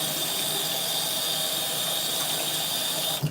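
Water runs steadily from a kitchen tap while potatoes are washed and rubbed clean, a loud, close, continuous gushing hiss that ends with a small splash.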